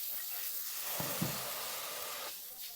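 Food sizzles quietly in a hot pan, a soft steady hiss with a couple of light clinks or stirs partway through.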